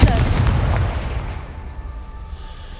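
A Confringo blasting spell going off in the video game Hogwarts Legacy: one heavy, booming explosion right at the start, rumbling and slowly fading into a low tail with a faint ringing tone.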